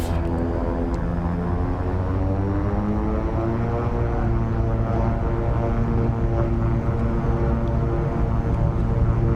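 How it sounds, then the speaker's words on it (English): A Beechcraft King Air 350 turboprop in X-Plane 11 rolls into its takeoff run, its propellers droning steadily and loudly throughout with layered engine harmonics and no voices. "We'll just keep going and take off."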